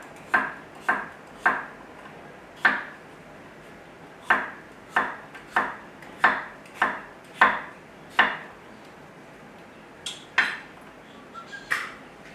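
A kitchen knife cuts a seeded cucumber into quarter-inch slices on a cutting board. Crisp, separate chops come in uneven bursts, roughly fifteen strokes with short pauses, close and clear with no talking.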